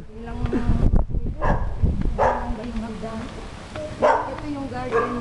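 A dog barks in short intermittent bursts at a hillside home garden in Silang, Cavite, while people talk nearby throughout.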